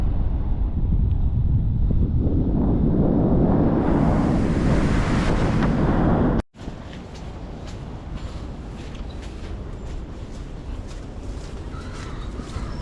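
Steady roar of surf and gusting wind buffeting the microphone in the rain, loud and constant, easing slightly after a brief cut.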